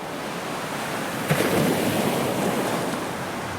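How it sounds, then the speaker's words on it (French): Pacific Ocean surf on the Chilean coast, a continuous broad wash of breaking waves with a swell and crash partway through, mixed with wind rumble on the microphone and no talking. "L'océan Pacifique!"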